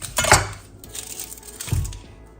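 A knife finely chops red onion for salmon cakes in a kitchen, giving two clear, bright knocks against the board with quieter handling in between and no voices.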